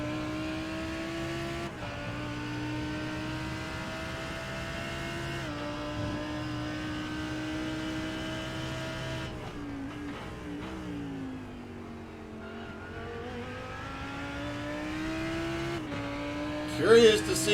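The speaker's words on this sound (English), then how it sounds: "Drops down into first gear for the right-hander, starts working back up through the gears." A GT3 race car at Sebring drops down to first gear for a right-hander, then accelerates back up through the gears, its steady engine note rising and falling through several shifts at close range.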